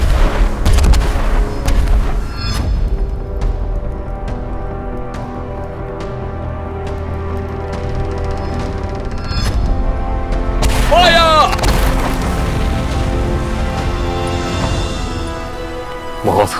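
Cannons fire in a Mughal-era period drama battle scene, a dense run of loud booming blasts and sharp reports layered over a rumbling din, with a brief shout breaking through near the end.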